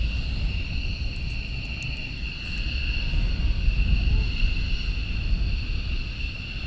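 A C-130 Hercules at RAF Lakenheath gives a steady, loud propeller drone with a strong low rumble and a sustained high whine, constant throughout at close range.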